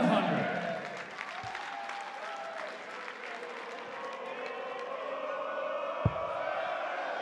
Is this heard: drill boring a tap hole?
no